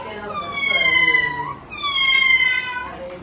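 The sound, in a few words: child imitating a cat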